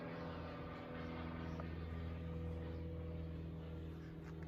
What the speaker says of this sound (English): The sound of an aeroplane traversing the Mildura sky.